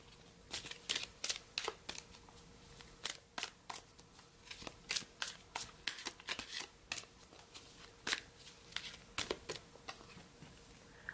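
Miracles Now oracle cards being shuffled, a quiet, irregular run of crisp riffling snaps repeating for several seconds, close and alone.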